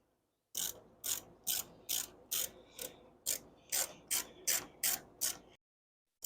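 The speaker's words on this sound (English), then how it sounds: "But now we can drop in our 2 bolts." Ratchet wrench tightening the two mounting bolts on a Nissan Titan/Armada radiator, heard as eleven evenly spaced, crisp clicking bursts close up, alone without talk.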